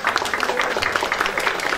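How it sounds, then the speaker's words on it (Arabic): An audience at a public event claps for a band, a steady patter of many hands close by, continuous and fairly loud from start to finish. "تصفيق بربي على الفرقة"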